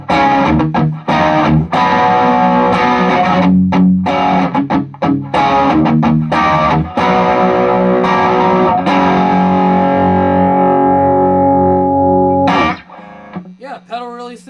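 A loud, heavily distorted electric guitar through a Westminster Effects Edwards Overdrive pedal plays chugging punk chords and sustained notes, then rings out and fades, followed by a brief spoken voice.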